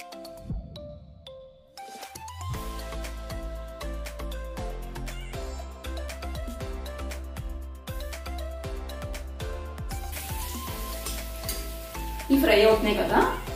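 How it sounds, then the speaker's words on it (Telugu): Fork-pricked boiled eggs fry for egg biryani, sizzling steadily up close as a utensil stirs and scrapes in the pan, under continuous tonal background music. "ఈ ఎగ్స్ అన్నిటికి ఫోర్క్ తో చిన్న చిన్న హోల్స్ లా పెట్టుకుని ఫ్రై చేసుకోవాలి"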